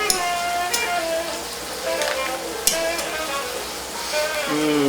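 Butter sizzling in bubbling caramel on a stovetop, a steady close frying hiss with occasional crackles and a brief spoon clink, continuous throughout.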